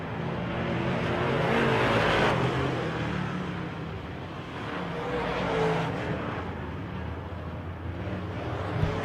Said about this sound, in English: The 35 and the 64 are side by side, ways back from the leader, but still a good race over there in turn 3 and 4 to our left.